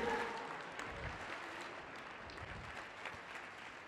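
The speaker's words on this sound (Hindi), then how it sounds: "ताली बजाओ मेरे खुदा के लिए।" Congregation at a church sermon clapping together, a steady wash of handclaps holding at moderate loudness throughout without any talking over it.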